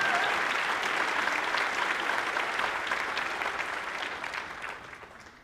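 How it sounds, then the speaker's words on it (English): An audience at a high school honors convocation gives freshman class honorees a steady round of applause, dense clapping that gradually fades out. "give our entire freshman class honorees another big round of applause"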